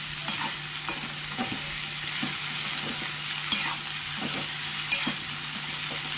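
Okra frying in ghee with a splash of lemon juice gives a steady, bright sizzle throughout, broken by a few sharp clicks and scrapes as the pan is stirred.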